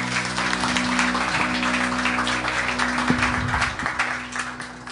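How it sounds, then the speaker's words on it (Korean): At a special lecture event, an audience gives sustained, even applause to welcome the lecturer to the stage, over a low steady electrical hum in the hall. "큰 박수로 맞아주시기 바랍니다."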